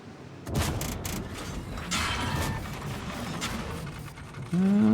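In a tank video game, an enemy shell strikes the track of a TVP VTU tank with a sharp metallic clank, followed by rattling, grinding mechanical noise and a low rumble that carries on to the end.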